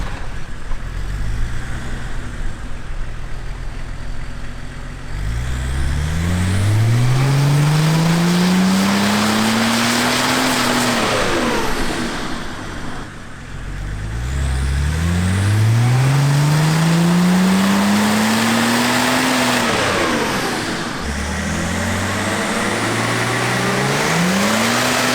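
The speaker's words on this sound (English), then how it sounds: "Hooking this up to make sure I can hear the wastegate cycling." A turbocharged car engine on a dyno revs in two long sweeping pulls, pitch rising steadily to a peak before dropping off, loud and close, with the wastegate cycling and a steady idle roar between runs.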